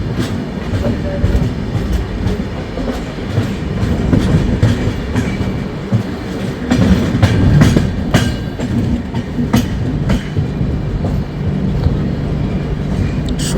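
The 12821 Dhauli Express from Howrah to Puri, heard from inside an AC chair car, rolls along the rails with a steady, loud rumble and rattling clickety-clack that continues throughout.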